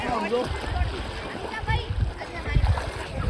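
People bathing in the Narmada river, water splashing and sloshing close by in irregular bursts while voices chatter underneath.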